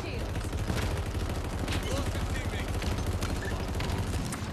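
Bursts of gunfire in a multiplayer flag-capture video game, rapid and dense, rattling steadily at moderate loudness under excited players' shouting voices.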